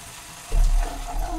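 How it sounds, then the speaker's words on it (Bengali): Spice paste for pepper rohu fish fries in hot oil in a pan, a close, steady sizzle that jumps up sharply about halfway through the brief moment and keeps crackling to the end. "মশলাটা আমার কষানো হচ্ছে।"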